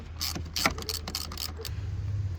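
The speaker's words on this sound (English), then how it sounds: "what we're going to do is loosen up the negative terminal" Loosening the negative battery terminal nut on a 2016 Honda Civic with a 10mm deep socket and ratchet: a string of close, quick ratcheting clicks and metallic turns over a low steady hum, ending in quieter hum.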